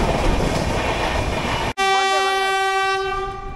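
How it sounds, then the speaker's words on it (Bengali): Vande Bharat express 22896 from Howrah to Puri rolls in with a steady loud rumble, then after a brief dip its horn blares in a long sustained chord with a wavering pitch, close and loud over the rail noise. "এই যে পেছনে আসছে কিং বন্দে ভারত 22896 হাওড়া পুরী বন্দে ভারত।"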